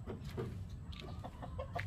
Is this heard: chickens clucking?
yes